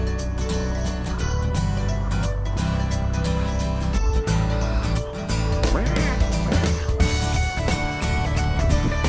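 A noisy chorus of ducks and geese quacking and honking over one another continuously, loud and close, with no pause, during Hurricane Nicole.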